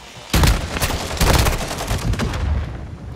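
Shotgun blasts from Call of Duty Modern Warfare 2 multiplayer: several loud, booming shots in quick irregular succession, with a short gap and further shots trailing off amid game noise.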